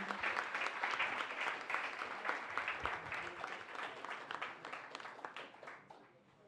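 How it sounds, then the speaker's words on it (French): An audience applauds a presenter at an evening technology showcase, with dense, close clapping that holds steady before gradually thinning and fading toward the end. "on peut lui donner une bonne main d'applaudissement"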